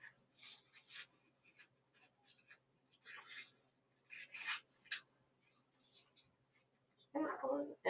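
Scissors snip through paper in quiet, scattered cuts while shapes are cut out, with a louder rustle of paper near the end.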